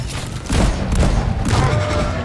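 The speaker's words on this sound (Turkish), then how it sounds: "Vuruyorum ben." Gunfire in the co-op game Deep Rock Galactic, a dense, loud burst of rapid shots and booming impacts that runs almost continuously after a brief quieter start.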